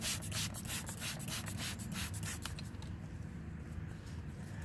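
Wet 1500-grit sandpaper rubs back and forth over a plastic car headlight in quick, regular scrubbing strokes, close and distinct, that stop partway through, leaving a quiet background.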